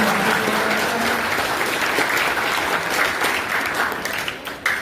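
Audience at a Patidar community children's assembly in Dehgam gives loud, sustained applause, dense clapping filling the whole span before thinning slightly at the end.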